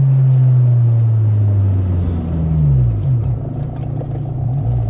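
A Honda Civic VTi EG6 with a B16 DOHC VTEC engine is driven, its engine droning steadily from inside the cabin, then pitch drops and climbs again through gear changes, moderately loud with no talking.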